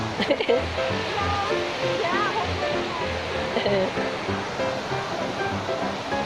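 Rushing creek water on a rough road trip in Columbio, Sultan Kudarat, a broad steady wash of flow running throughout, with voices talking and calling over it.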